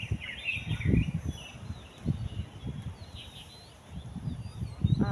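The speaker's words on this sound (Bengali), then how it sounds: "আর পাখি ডাকছে কিচিরমিচির" Outdoors near a seashore with hills, birds chirp faintly in scattered, high twittering calls over intermittent low thumps and rustling.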